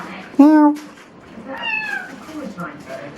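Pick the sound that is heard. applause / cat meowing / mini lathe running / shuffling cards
cat meowing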